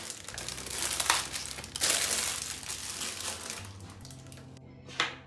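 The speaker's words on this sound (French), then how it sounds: "je vais tout simplement ouvrir mon paquet" A packet of biscuits for a chocolate dessert crinkles and crunches as it is torn open and handled, with steady close rustling, some louder crushing bursts, and a brief pause near the end.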